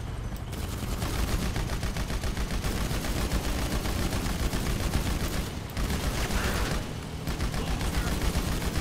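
Sustained automatic gunfire from a weapon in GTA 5 Online fills the scene, a dense, loud, nearly unbroken rattle of rapid shots with only a couple of brief dips.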